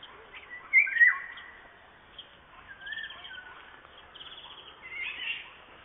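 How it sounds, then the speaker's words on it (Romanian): Several birds sing outdoors on a Romanian day, with thin chirps and short warbling phrases scattered over a soft background hiss, fairly faint and distant with no talk. "Sunt foarte multe păsări."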